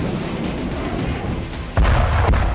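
Russian artillery fire pounding near Kupiansk: a rumbling barrage of rapid distant thuds, then a heavy, loud boom hits and its deep roar lingers, with no voices.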